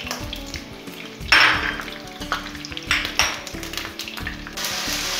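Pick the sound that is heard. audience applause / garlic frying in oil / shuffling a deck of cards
garlic frying in oil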